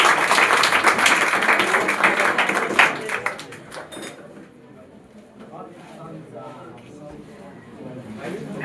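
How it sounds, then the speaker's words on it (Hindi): An audience at a student award ceremony for coaching-centre toppers in Bihar claps loudly for a few seconds, then the applause fades into a quieter room with people talking. "जोरदार तालियां बजाइए इनके लिए।"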